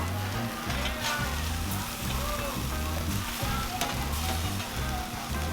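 Burgers sizzling over an open fire on a KUDU grill, a steady crackling hiss with popping grease, close and continuous, with no talk.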